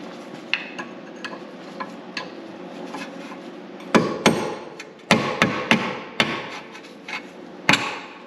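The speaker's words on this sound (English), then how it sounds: "a hammer of your choice. I'll grab my smaller hammer." Metal hammer strikes on a Mercedes C43 AMG W202 front wheel bearing assembly, a few light taps at first, then a run of louder, irregular close blows.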